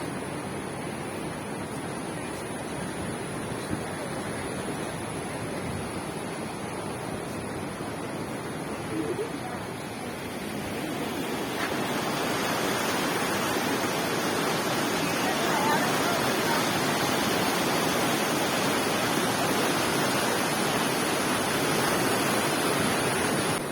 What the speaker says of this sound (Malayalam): ഓരോ ഭാഗത്തും നല്ല സ്പീഡിലെ വെള്ളം